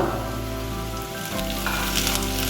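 Onions sizzle and fry steadily in a hot pan for chilli beef, a dense continuous crackle close by with a brief stir partway through, no talking.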